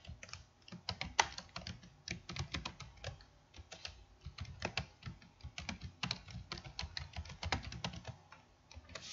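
A chart title is typed on a computer keyboard with a steady stream of soft, close key clicks and taps, uneven in rhythm, with no voices.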